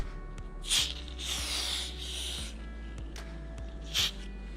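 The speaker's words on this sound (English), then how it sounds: "Now we will go and give it a spray down all around." Bursts of hissing spray from an aerosol can onto a car window regulator, a short puff then a longer sustained spray and another brief puff, close by, with rubbing and handling noises.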